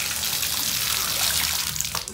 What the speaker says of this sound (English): Okay, let's turn off water.